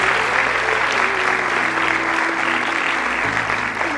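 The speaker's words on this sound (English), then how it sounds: "Big round of applause for all of them." Loud, dense applause from an audience thanking the musicians at a Bharatanatyam arangetram dance recital, a steady full wash of many hands clapping together, with a low tone humming beneath throughout.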